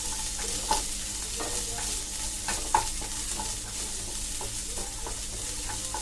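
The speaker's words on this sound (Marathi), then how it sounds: "आता हे चांगलं भाजून घेऊया आपण." Onion, garlic cloves and a piece of ginger frying in a pan, a soft continuous sizzle with periodic spoon stirs and light clinks against the pan, fairly quiet and close, with no talking.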